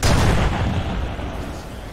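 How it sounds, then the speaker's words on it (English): Artillery in the video game Arma 3 lands as a loud, close boom that rolls out into a long rumbling decay. "we are under artillery fire"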